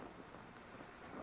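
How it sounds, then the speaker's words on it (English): Distant thunderstorm rumble near the Badlands, a steady low roar with rain-like hiss filling the whole moment, no voices. "The storm, I think, is off in the distance."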